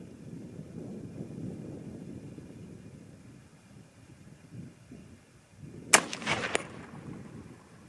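A .300 Winchester Magnum Browning BAR rifle firing outdoors, a single sharp report with a short ringing tail after several seconds of wind and rustling.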